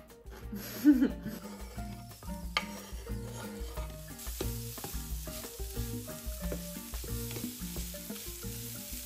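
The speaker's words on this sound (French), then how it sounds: "je vais couper le poivron et la viande en petits morceaux et je vais faire cuire ça" Chopped bell pepper and meat sizzle in a pan, the frying steady under background music with a faint laugh.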